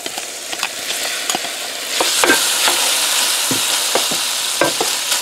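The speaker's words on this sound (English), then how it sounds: "I'm going to return the gnocchi." Gnocchi sizzle loudly in hot oil in a pan, a steady close frying hiss broken by repeated scraping clicks of stirring, with no talk.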